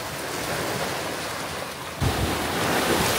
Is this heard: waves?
yes